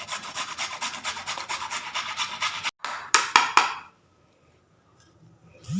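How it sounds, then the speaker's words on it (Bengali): A cleaned, peeled carrot is grated by hand for carrot kulfi, giving steady, rhythmic rasping strokes up close, then a few final scrapes before the sound drops to near silence. "গাজরটাকে আমি গ্রেট করে নিচ্ছি।"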